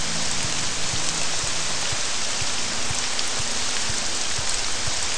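Continuous rain falling in Morrowind, a loud uniform wash of raindrops with soft periodic low pulses underneath, heard alone without talk.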